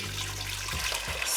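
Tap water runs steadily into a pan for making risotto stock, a short close gush that rises and splashes near the end.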